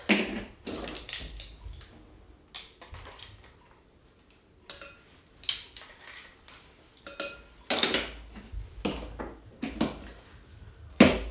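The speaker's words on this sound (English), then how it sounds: "I always whisk my dry ingredients so that everything's evenly distributed" A whisk works through flour, baking soda and salt in a bowl, producing irregular bursts of scraping and clinking strokes with short pauses between them, close and moderately quiet.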